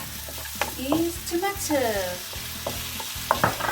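Onions sizzle steadily in a frying pan for chicken tinola, broadband hiss with scattered clinks of stirring, while a voice talks over it throughout.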